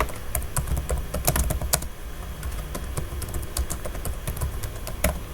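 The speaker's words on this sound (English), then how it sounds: "I'll just start typing" Rapid, continuous tapping on a computer keyboard, close and fairly loud, with irregular bursts of keystrokes and no pauses longer than a moment.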